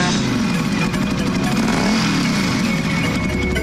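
A motorcycle runs steadily close by, its engine a continuous loud drone that holds level throughout with no clear pass-by swell.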